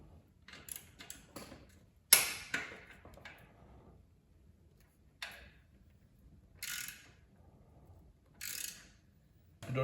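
A hand ratchet working loose the tight slip-on exhaust bolts on a motorcycle, a few short clicking bursts spaced apart by quiet pauses, close and fairly faint.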